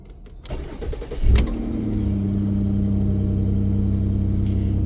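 A 2009 Ford Escape engine, just fitted with a replacement ignition assembly, cranks briefly, fires up close by and settles into a steady, even idle.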